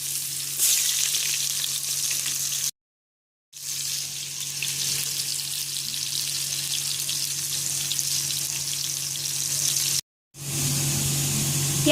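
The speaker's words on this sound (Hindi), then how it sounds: "1 कप ऑयल ले लीजिए और इसमें प्याज को ब्राउन कर लीजिए।" Onions brown in a cup of hot oil for beef haleem, a loud, continuous close sizzle and crackle broken by two brief silent gaps.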